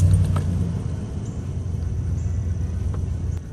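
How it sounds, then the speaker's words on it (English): A car engine idles in a steady low rumble after starting, heard close and continuous with no talk over it. "So we'll start the car"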